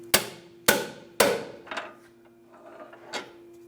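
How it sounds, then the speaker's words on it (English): Three loud metallic hammer strikes on the end of a pry bar against a steering rack bellow clamp on a Ford Focus ring out in quick succession, followed by a few softer taps and scraping over a steady hum. "use a hammer on the end of my pry bar and hammer the clamp till it comes off"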